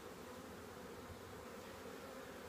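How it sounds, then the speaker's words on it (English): Honeybee swarm buzzing in a dense, continuous drone, faint and steady throughout, with no voices. "Which is what you get when you get bees swarming."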